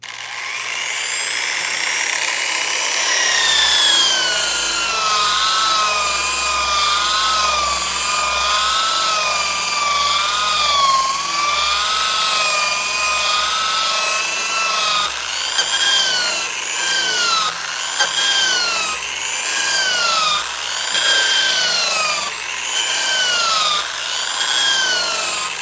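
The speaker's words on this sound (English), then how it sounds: "we have the 240 grit Scotch-Brite roller on a plain stainless steel top, and we're going to give it a brush look here." Power tool fitted with a 240 grit Scotch-Brite roller brushing a plain stainless steel top, a loud continuous abrasive whir with wavering pitch that runs throughout and changes tone partway, with no talking.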